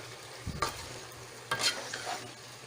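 Leftover turkey being stirred in a frying pan: a steady low sizzle broken by two distinct scraping stirs of a utensil against the pan.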